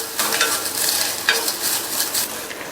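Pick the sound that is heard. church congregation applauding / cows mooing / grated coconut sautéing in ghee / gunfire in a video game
grated coconut sautéing in ghee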